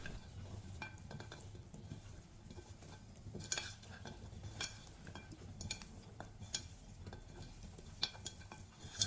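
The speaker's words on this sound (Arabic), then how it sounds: "تو ناخذوا حفنة هكا زيت في دينا ونخلطوه كل مع بعضه" Cracked olives are mixed by hand with a drizzle of oil, producing soft wet rustling and squelching with scattered sharp clicks, quiet and close.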